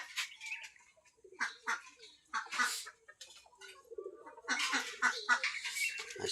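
Domestic Deshi duck, a laying-age hen near egg-laying, gives short scattered calls and quacks, some close and some overlapping, among other farmyard birds with brief quiet gaps between bursts.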